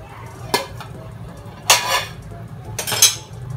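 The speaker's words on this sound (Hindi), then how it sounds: "हमारे काढ़े को उबलते उबलते 10 मिनट हो चुके हैं, तो अब हम इसे खोलेंगे" A metal lid is lifted off a pot of boiling kadha herbal drink, giving several sharp clanks and scraping clatters of cookware over a steady background hum, with no talking.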